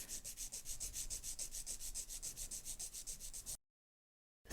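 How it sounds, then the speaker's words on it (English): An acrylic gel nail tip is filed straight across the free edge into a tapered square shape, with quick, even back-and-forth rasping strokes close up for about three and a half seconds before the sound stops. "File the nail straight out from the nail groove on the right."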